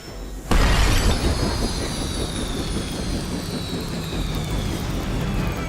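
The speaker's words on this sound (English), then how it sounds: "You've grounded the helicopter." A helicopter is brought down in the Marvel's Midnight Suns video game: a sudden loud crash and shattering bang, then a sustained roaring rumble with a falling whine that lingers for several seconds.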